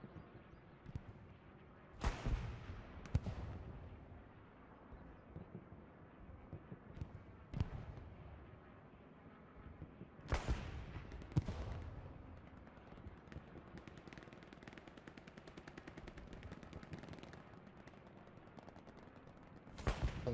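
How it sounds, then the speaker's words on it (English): Small-arms gunfire from a video game battle in a forest during a tournament match, with sharp bursts and scattered shots rising out of a steady background of distant fire. "Great small arm engagements going on off the point in around salient."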